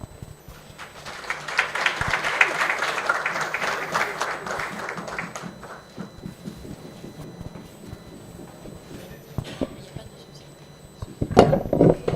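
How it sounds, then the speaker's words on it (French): Conference crowd applause builds and holds for several seconds, then fades into scattered murmurs before a short final burst of clapping. "Mesdames et messieurs, sous vos acclamations, Monsieur Thierry"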